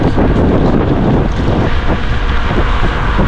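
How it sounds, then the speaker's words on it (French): Loud, steady wind roaring and buffeting a microphone outdoors while riding a KuKirin G2 Max electric scooter at about 45 km/h, a dense rushing noise throughout with no voices. "Ça souffle pas mal, il y a du vent."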